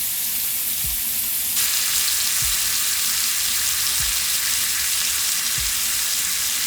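Butter sizzles and fries steadily in a hot pan while bull shark is being cooked, a continuous close hiss with a few soft low thumps recurring about every second and a half.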